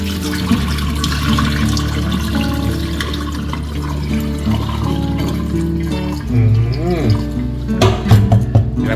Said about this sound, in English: Then I'm gonna pour the water out.